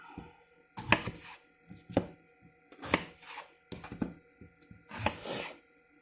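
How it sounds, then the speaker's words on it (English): A knife chops vegetables on a cutting board in repeated bursts of quick, close cuts separated by short pauses, with no talking. "And you can really cut the vegetables however you want them."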